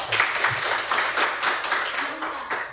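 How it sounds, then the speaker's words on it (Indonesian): A short burst of applause from a small classroom group, brisk clapping that stays fairly even and close before tapering slightly. "Oke, tepuk tangan untuk Dev."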